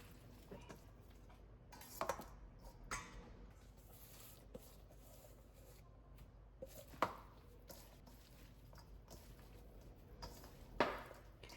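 Radish kimchi is tossed with gochugaru, rice vinegar and sesame oil in a bowl, giving faint, quiet, irregular wet squishes, scrapes and occasional sharper clicks and clacks of utensils.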